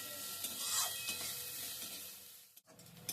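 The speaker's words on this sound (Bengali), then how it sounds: "একটা মাঝারি সাইজের পেঁয়াজ কুচিয়ে নিয়েছি দুটো কাঁচা লঙ্কা চেরা এবার এগুলোকে একটু ভেজে নিচ্ছি" Chopped onion and slit green chilies fry in a pan, a soft sizzle with stirring scrapes, quiet and close, cut by a brief pause near the end.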